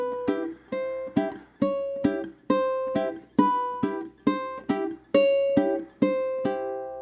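Ukulele plays the walk-up and walk-down intro of a theme, a steady series of about a dozen clear plucked chords spaced roughly half a second apart, each ringing briefly, with no voice.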